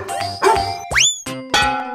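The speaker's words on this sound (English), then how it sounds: "dog." A cartoonish dog sound from a children's animal-sound toy or game: several short, loud, tonal bark-like bursts with a springy boing in between, over a steady background tune.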